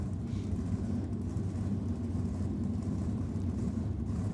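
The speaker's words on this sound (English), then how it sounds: "BG Engines 441 cube engine in James's car." A Ford Mustang drag race car with a BG Engines 441 cubic-inch engine rumbles in a steady, loud, dense drone at a nitro drag-racing event, heard from a distance with no voices.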